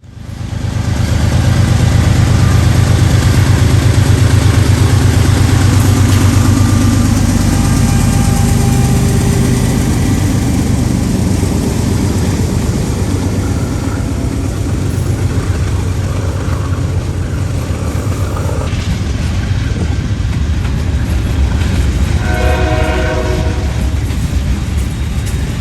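Freight train 179 gets under way as it swings from the PRR onto the NYC line, a loud locomotive rumble with a horn blast near the end and no voices.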